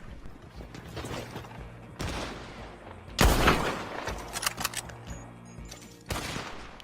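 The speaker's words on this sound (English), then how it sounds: "Anticipate that machine gun carriage by the docks." Gunfire from a machine gun carriage at the docks in Red Dead Redemption 2 during an online Blackwater mission: loud, dense bursts of shots with mechanical clatter, broken by short pauses and set against steady game ambience.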